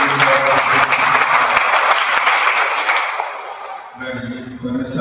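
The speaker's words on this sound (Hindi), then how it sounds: "एक बार जोरदार तालियां।" Loud, dense applause from a church congregation at a Sunday service fills the first four seconds, then fades into a quieter stretch with a few scattered claps and room murmur.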